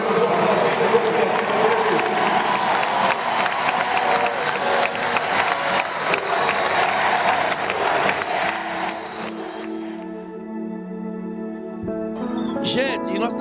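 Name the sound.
audience applause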